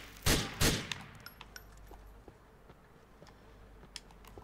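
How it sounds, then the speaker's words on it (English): Two loud, close gunshots ring out in the video game GTA IV, then fade into faint scattered ticks and quiet background noise. "Shots fired and everything."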